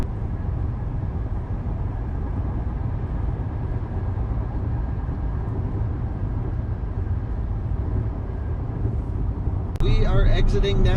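A C8 Corvette Z51 convertible cruises on the highway at a steady 72 mph, giving a constant broadband rush of road and wind noise. Near the end a voice begins speaking over it.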